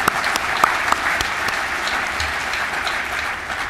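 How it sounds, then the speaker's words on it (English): Loud, steady applause from a convention audience at the 2018 USBC bowling annual meeting, a dense wash of clapping with a few sharper claps standing out, lasting the whole stretch. "please just give them a round of applause and a thank you from us"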